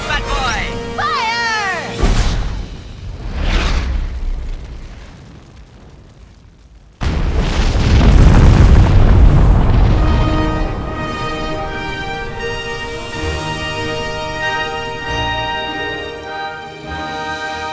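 A cartoon weapon fires to stop a sun going supernova in a space adventure, a loud booming explosion that bursts in suddenly and rolls on with a long rumbling tail, then fades as music and sound effects carry on.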